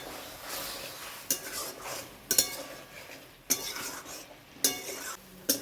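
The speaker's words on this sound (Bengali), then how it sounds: "আমি এখন এই কচুর ডালটাকে ভালোভাবে এই মশলার সঙ্গে কষিয়ে নেব" Taro stems fried with spices in a pan, stirred with a utensil that scrapes and clinks against the pan about five times at a steady pace over a continuous low sizzle.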